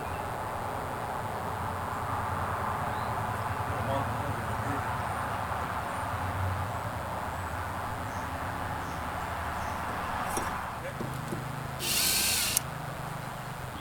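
A power drill with a 25/64 bit runs steadily and close, with a sharper high burst near the end.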